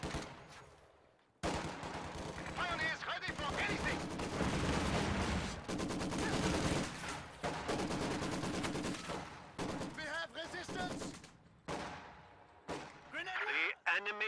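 Grenadiers fire in a World War II strategy video game, with dense bursts of gunfire and battle noise layered over a commentator's voice throughout.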